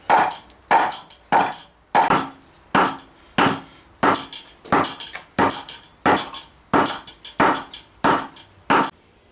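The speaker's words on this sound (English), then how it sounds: "I've been round with the planishing hammer, nice weighty one" A weighty planishing hammer strikes the wooden surface of a dishing stump in a steady run of about eighteen sharp, loud, close blows, evenly spaced with brief gaps between each hit.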